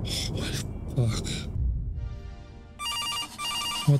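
A telephone rings in a haunted-apartment horror video game, its electronic bell bursting in twice at full loudness after gasps, startled talk and an eerie tonal hum.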